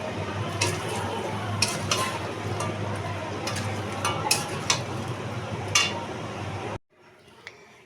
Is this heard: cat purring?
no